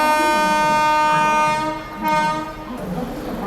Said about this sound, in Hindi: निकल गई दोस्तों आप लोगों की झेलम एक्सप्रेस